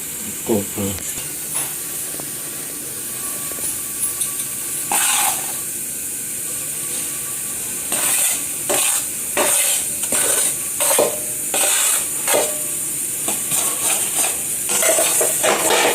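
Edible gum, cashews, almonds and coconut roasting in a pan at home, with a soft sizzle under repeated scraping stir strokes that come in rhythmic clusters.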